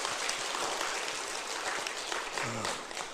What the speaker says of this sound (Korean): 오늘 우리를 축복하실 주님께 우리 감사의 박수 드립시다